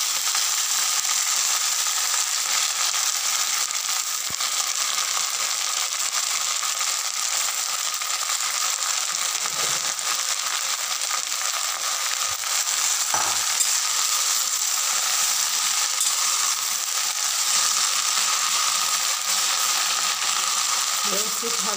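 Washed fenugreek leaves frying in a pan for a red and green dry methi bhaji, a steady bright sizzle running throughout with occasional scraping knocks from stirring.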